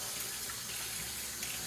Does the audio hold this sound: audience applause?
no